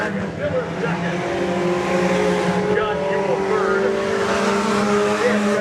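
Hobby stock race cars roar around the Nobles County Speedway dirt track in a steady, dense engine drone with revving tones. Over the engines a voice calls the race.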